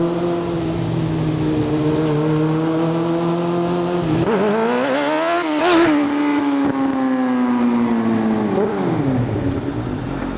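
A motorcycle engine revs repeatedly on the throttle during wheelie practice, the pitch climbing and dropping in several loud sweeps with a sharp peak midway.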